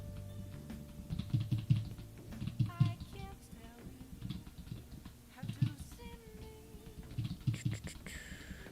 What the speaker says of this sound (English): it's really hard to not have your keyboard typing like not show up on the mic